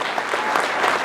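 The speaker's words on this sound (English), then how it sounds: "Please give a round of applause for the people responsible." A theater audience claps in a brief, dense burst of applause, steady and fairly loud throughout, with no other sounds standing out.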